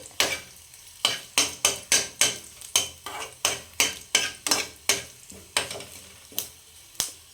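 Garlic and curry leaves fry in a pan, heard as a close, rhythmic series of about fifteen sharp spatula strikes and scrapes over a low sizzle, with no voices.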